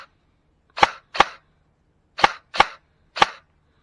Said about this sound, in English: First, we're going to chrono. Let's see where we're shooting.